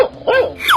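A dog in a 3D animal video game lets out a couple of quick, loud, close barks and yelps in rapid succession.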